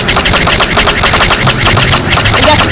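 Rapid-fire gunshots from a weapon in the A Series of Unfortunate Events video game, set on the Dreadful Docks, ring out as a loud, steady, fast rattle of closely spaced shots with an engine-like rumble beneath.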